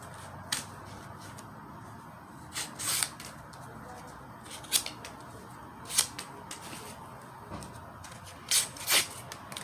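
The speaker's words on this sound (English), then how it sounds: "You got to hold the cardboard with enough force so the blade will bite into it and cut it." Blade of a KWB M390 knife slicing through cardboard, heard as a series of short, sharp scraping cuts at irregular intervals, some in quick pairs, close up over a low steady background hiss.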